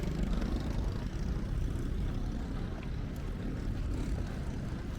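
A boat motor runs on the water off Phuket, Thailand, giving a steady, close, low rumbling drone with wind and water wash, unbroken by talk throughout.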